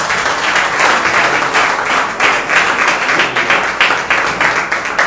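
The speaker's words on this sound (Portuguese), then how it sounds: "Vamos receber o servo com as palmas do Senhor." Steady, loud applause from a church congregation filling the whole stretch, dense clapping with no pauses.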